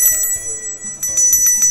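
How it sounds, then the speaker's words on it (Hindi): A small brass puja bell rings with a bright, sustained shimmer, struck several times in quick succession, close and fairly loud. "हम आपके लिए लेकर आए हैं ये पूजा की घंटी। आप इसकी आवाज़ सुन सकते हैं"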